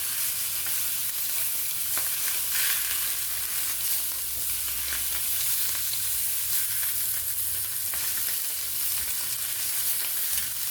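Dr Pepper sausages fry in a pan on a stovetop, giving a continuous loud sizzle and crackle throughout with occasional sharper pops, and no voices.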